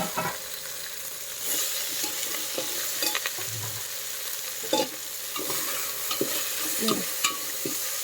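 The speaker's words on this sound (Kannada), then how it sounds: "ಇದೆಲ್ಲ ಹಾಕ್ಕೊಂಡು ಚೆನ್ನಾಗಿ ಹುರಿಬೇಕೀಗ." Chopped tomato and onion fry in a pan for mango sambar, with a steady close sizzle broken by scraping stirs and spoon knocks.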